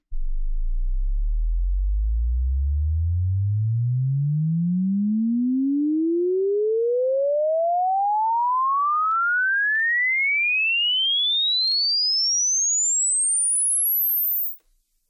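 Pure sine test tone sweeping steadily upward in pitch from a deep bass hum to a very high whistle over about fifteen seconds, loud and constant, then stopping abruptly.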